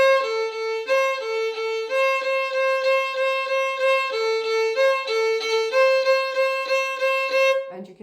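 Violin playing a melody as a slow tutorial phrase, alternating second-finger and open-string notes in a steady rhythm, close and clear with no talking.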